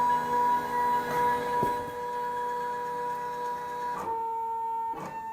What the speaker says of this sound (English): now press start job, and you'll be able to see the machine move